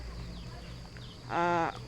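A goat on a farm lets out a single loud, wavering bleat near the end, standing out over faint background noise from the herd at a feeding tub.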